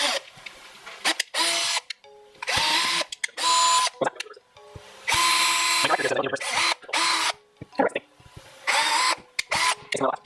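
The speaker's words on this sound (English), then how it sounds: "So I'm going to pre-drill pilot holes." A power drill pre-drilling pilot holes for a folding transom boat ladder whirs in short repeated bursts, stopping and starting, with quiet gaps between runs.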